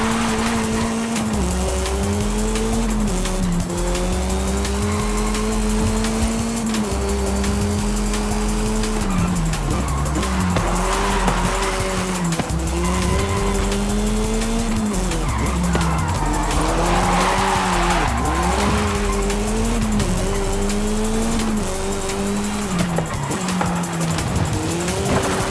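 Monster truck wheels skid and spin in Forza Horizon 5, with a loud droning engine whose pitch rises and falls under repeated tire squeals and scrubbing, continuous and close.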